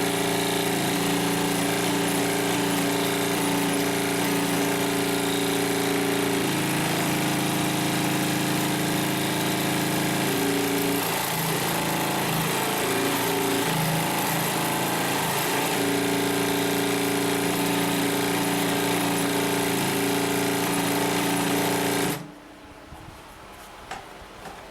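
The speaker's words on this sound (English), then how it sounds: "just want to show you a little runtime on the machine" A Consew P1541S-CC industrial sewing machine drives through 16 layers of material with a loud, steady motor hum and rapid needle chatter for about twenty seconds, then stops abruptly, leaving near quiet.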